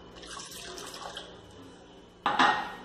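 Half a small glass of water is poured into a pan of sausages, a soft trickle at first that swells into a louder splash near the end, with light clinks of the pan.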